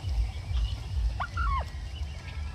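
A single short turkey gobble with a warbling, rising-and-falling tone sounds out mid-way, over a low rumbling background in a pen.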